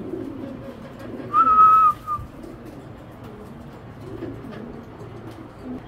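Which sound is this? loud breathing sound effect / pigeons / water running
pigeons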